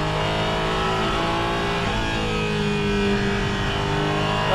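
Porsche Cayman GT4 RS Clubsport race car fitted with the GT3 engine, driving hard on a wet circuit, its engine droning loud and steady throughout with rising revs near the end.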